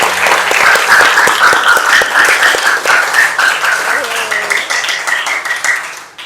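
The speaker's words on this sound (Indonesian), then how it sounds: "tepuk tangan buat kelompok 1 dan 4." Students applaud in a school classroom, a steady, dense clapping that holds loud for about six seconds and then tapers off at the end, with a few voices faintly mixed in.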